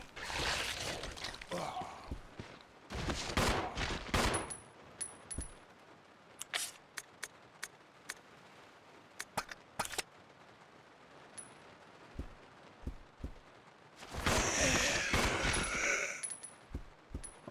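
Gunfire in the game Resident Evil Zero sounds as sharp, scattered single shots and short bursts, interspersed with quieter game ambience and a couple of louder noisy stretches.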